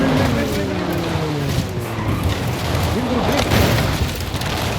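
A car crashes in the racing video game Forza Horizon 5, with tire skids, revving and a heavy impact boom, loud and continuous, while a voice talks over the game sound.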